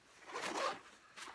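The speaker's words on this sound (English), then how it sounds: "you have two side zippers" A zipper on the side pocket of an Osprey Atmos 65 AG backpack is pulled in two quick, close strokes, a longer rasping zip followed by a shorter one, soft and alone.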